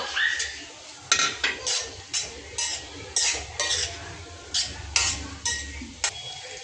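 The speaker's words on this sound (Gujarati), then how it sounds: "રાજમા પનીર નાખી અને ગ્રેવીને એકદમ મિક્સ કરી લઈશું" Rhythmic metallic scrapes and clinks as a utensil stirs rajma and paneer through a spiced gravy in a pan, roughly a dozen close, evenly paced strokes with a faint sizzle beneath.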